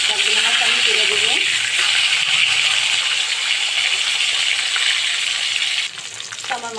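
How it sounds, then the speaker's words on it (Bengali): Fish fry in hot oil in a pan, a loud continuous sizzling hiss close by that eases slightly near the end as the pan is handled. "প্যানেতে আমি তেলটা আমার গরম হয়ে গেছে। এখন আমি সবগুলো মাছ আমি দিয়ে দেবো।"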